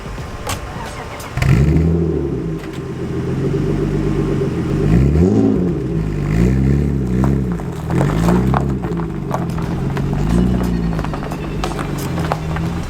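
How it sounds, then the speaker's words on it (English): A BMW E30 engine cold-starts with a cranking catch, then idles roughly and revs several times in rising and falling sweeps, close and loud. "Get a little cold start."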